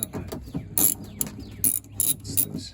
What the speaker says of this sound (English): So this is a 10mm. I'm just going to use a ratchet.